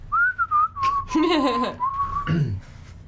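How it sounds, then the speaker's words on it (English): Someone whistles a wavering tune in the corner during a Dungeons and Dragons session, clear and fairly close, with brief bursts of talk and noise breaking in partway through. "Whistling in the corner."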